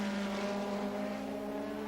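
Formula 1 cars race at the 1985 Austrian Grand Prix at Zeltweg, with a sustained high engine whine at steady pitch, loud and continuous, heard as a broadcast feed without commentary in this stretch.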